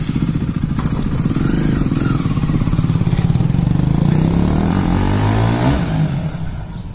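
KTM Duke 250 motorcycle with the exhaust dB killer removed, a loud continuous engine drone that rises as it revs and accelerates, then eases off, close by with no talk.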